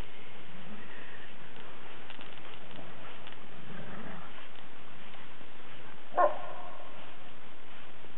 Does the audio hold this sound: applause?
no